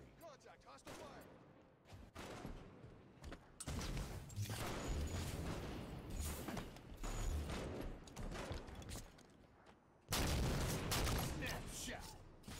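Gunfire in a ranked Halo 5 sniper match: dense, loud bursts of shots and booming impacts roll on almost continuously, with a heavier blast near the end and game voices mixed in.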